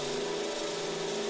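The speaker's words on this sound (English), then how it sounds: "I just gave Tony a drill that was set on hammer mode." A power drill set on hammer mode runs steadily against sheet metal, a continuous loud buzzing whine with a rattling edge, close up and alone.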